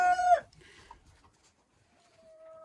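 In a chicken coop, a hen gives a loud, close squawking call at the start, followed by quieter scattered clucks and a faint drawn-out hen vocalization near the end.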